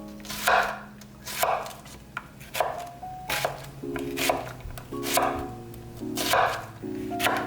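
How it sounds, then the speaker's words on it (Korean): An onion being sliced into 1 cm pieces on a cutting board: steady, evenly spaced knife chops, about ten strokes, close and clear with no talking. "양파는 1cm로 썰어주세요"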